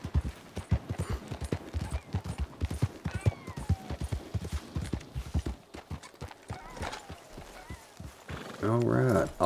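Steady rhythmic clip-clop of horse hooves walking in the video game Red Dead Redemption 2, close and continuous, ending with a loud horse whinny near the end.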